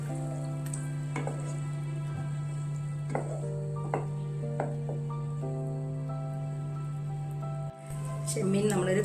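Prawns stirred with thick coconut milk in a pan give a soft, steady sizzle, broken by a few light clinks of the spoon against the pan, over a constant droning background hum.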